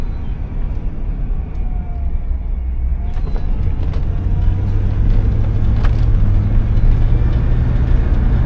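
A 1996 GMC Yukon engine idles steadily close by, then rises as the throttle is opened and holds a louder, deeper hum for several seconds.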